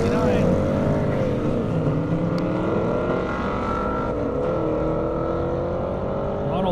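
A 1969 Ford Boss 302 races down an airstrip, its loud V8 howl rising and falling through gear changes, sustained and close throughout with no break.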